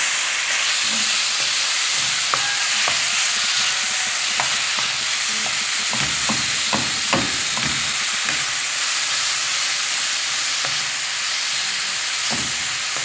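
Minced meat frying in a pan, a loud unbroken hissing sizzle with repeated clacks and scrapes from a utensil stirring and breaking up the meat, no voices.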